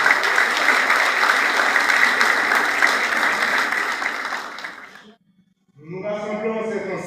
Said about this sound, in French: je demande l'applaudissement particulier de l'ambassadeur